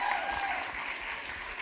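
Audience applause at an education summit, a steady wash of clapping from a crowd that carries evenly from start to finish without letting up.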